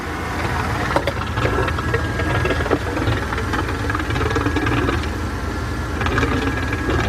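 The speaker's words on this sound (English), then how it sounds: "I just disconnected the negative terminal for the pump. Let's go connect it back and see what happens." A fuel pump runs in a 1997 Mercedes-Benz E320, heard as a steady mechanical hum and whine with a low engine-like rumble throughout. A few faint clicks sit on top, and no one speaks.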